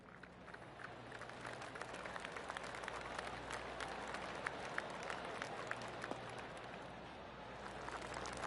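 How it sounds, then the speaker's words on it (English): A golf crowd in the video game PGA 25 claps steadily around the course, a soft continuous patter of many hands heard from a distance. "I can hear the golf claps around the course."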